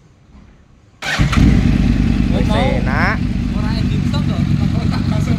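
A Yamaha R1 sport motorcycle engine after fuel pump service fires up abruptly after a quiet moment, then settles into a loud, steady, close idle while people talk over it.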